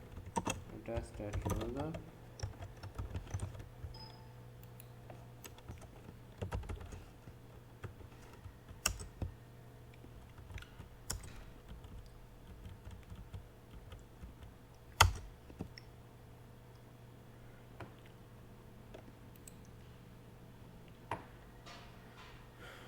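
Keys clatter in scattered bursts on a computer keyboard during payroll form data entry, quiet and close with irregular clicks and a few sharper taps, under intermittent speech.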